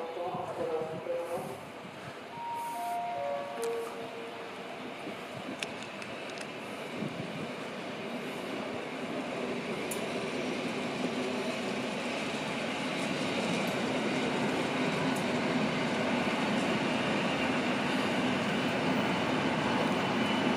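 Triple-unit train passing through Łowicz Główny station, a rising rumble and rail noise building and staying loud near the platform, with a brief horn-like tone early and a person speaking at the start.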